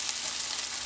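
Homemade dehydrated hash browns fry in hot oil, giving a steady, close, dense sizzle with fine crackling spatter throughout and no voices.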